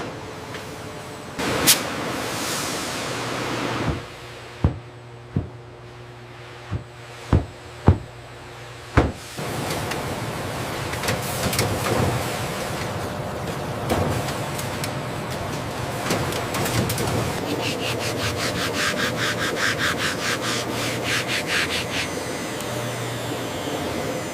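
Denim jeans being finished in a factory: a run of sharp knocks and taps near the start gives way to a steady, loud machine whir and scraping hiss that carries on to the end, with no talking.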